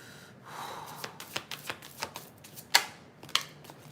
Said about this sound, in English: I'm going to shuffle a couple cards for the collective